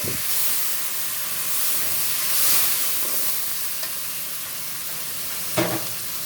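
Meat cooks without water in a hot pan with turmeric, ginger paste, garlic paste and tomato, giving a steady close sizzle and hiss. A couple of louder scraping stirs cut through near the start and end.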